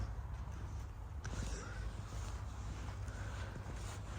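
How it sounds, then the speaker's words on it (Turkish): Crows cawing from a tree near a residential outdoor spot, a single harsh call standing out over steady wind and background hiss, moderately distant, with no talk. "Şurada ağaçta o kargalar hep."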